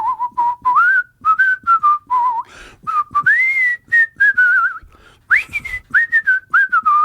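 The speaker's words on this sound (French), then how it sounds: "siffle-moi donc quelque chose. Une petite Vas-y donc, toune de Steph. Noël." A man whistling a Christmas tune, clear close melodic phrases of short and held notes with brief pauses between them, alone without talk.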